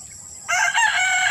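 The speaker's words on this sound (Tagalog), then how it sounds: "Ano naman ang manok sa likod mga kabakyard?" A rooster crows in a backyard, one loud, close call that starts about halfway through and holds steady to the end over a quiet background.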